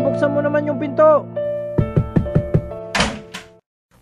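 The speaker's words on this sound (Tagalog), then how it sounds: "Hana, buksan mo naman yung pinto." Knocks on a door in a Filipino radio drama: a short series of firm knocks after a voice, then a brief rattle and sliding sound before falling quiet.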